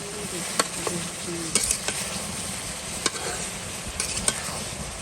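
Vegetables and fish cook in a hot pan with a steady broadband sizzle, while a spatula stirs and scrapes at irregular moments. The scrapes come as short clicks close by, and no one talks.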